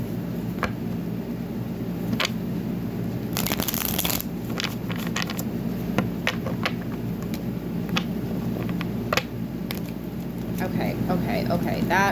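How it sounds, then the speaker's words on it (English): A tarot card deck is shuffled by hand, a rough, uneven burst of riffling and flapping cards with scattered soft taps, close and moderately quiet over faint room noise, a voice briefly heard. "That was an ugly shuffle."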